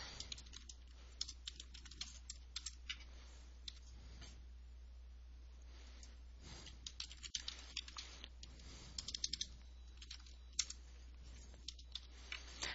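Computer keyboard key presses, a quick, light run of clicks and taps that comes in bursts and short pauses, close and quiet, with no speech.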